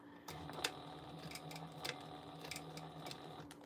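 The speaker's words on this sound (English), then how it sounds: "we're gonna do an 1/8 of an inch top stitch all the way around" A sewing machine runs steadily while top stitching a 1/8 inch seam around a Farmhouse Jar Mug project, its faint even whir broken by a few light clicks and ticks.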